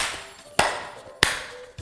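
Three sharp, separate hand claps ring out at a slow, even pace in a quiet room during a children's ballet lesson, each a crisp single smack with silence between.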